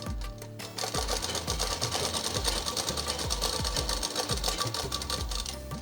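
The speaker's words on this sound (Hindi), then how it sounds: "डबल सिलाई कर देंगे।" A sewing machine runs double stitching along the chest seam of a plain frock, a fast, steady mechanical whir with regular ticking needle strokes, loud and close throughout, with no talking.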